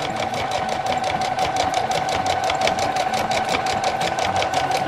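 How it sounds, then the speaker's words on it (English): A sewing machine stitches fabric for an apron, a fast, even run of needle strokes rattling in a steady mechanical rhythm close by and alone. "the machine's perfectly capable of pulling the fabric through"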